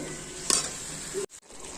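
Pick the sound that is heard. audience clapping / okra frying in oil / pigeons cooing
okra frying in oil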